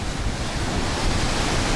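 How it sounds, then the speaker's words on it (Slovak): Ocean surf churns and rushes continuously along a rocky shore near Ao Nang, Thailand, loud and close, with heavy wind buffeting the microphone. "Aha, teraz bude asi veľká vlna, či? Občas to tu vyšplechne až hore."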